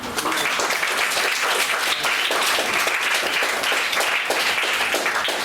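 A classroom of schoolchildren at a government girls' school claps together, dense, loud and sustained applause from start to finish, close to the listener.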